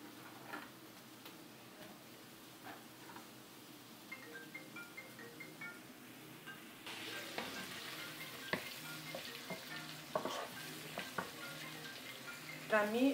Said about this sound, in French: là je suis en train de sauter l'oignon